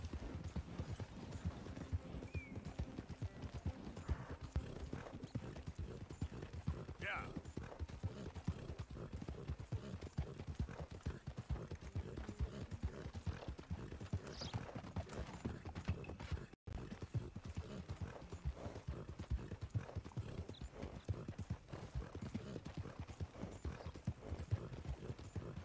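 Horse hooves clip-clop steadily in Red Dead Redemption 2, a continuous brisk rhythm of hoofbeats at moderate volume, joined by faint mechanical rattling and a brief dropout partway through.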